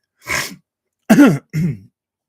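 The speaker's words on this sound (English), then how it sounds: "I'm getting tired of this cough." Three harsh, throaty coughs from a man, one short burst followed after a pause by two closely spaced coughs, close and fairly loud against silence.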